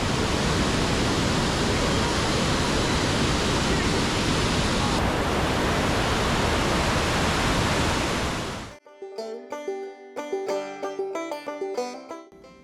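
A waterfall in a Quebec park roars as a loud, constant rush of water for about eight seconds, then cuts off abruptly and music takes over.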